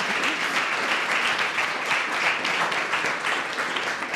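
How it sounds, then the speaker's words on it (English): Warm audience applause for a visiting professor's guest lecture on design in education fills the room, steady dense clapping from many hands held at an even level throughout, with no talking over it. "So let's give a warm applause to Peter"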